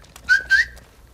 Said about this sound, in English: We got some whistling.